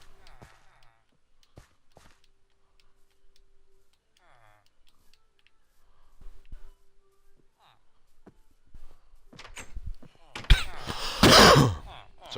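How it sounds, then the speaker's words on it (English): A man coughs hard and close into a microphone near the end, a loud broadband burst after a stretch of quiet clicks and faint background sounds from a survival video game. "Sorry for coughing into the mic."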